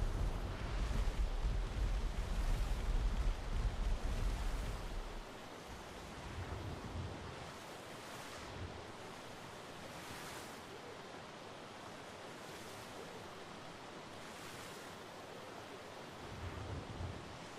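River water in the survival game Ark Survival Evolved rushes in a steady broadband wash, heavy and rumbling at first, then settling into a softer continuous flow with gentle surges.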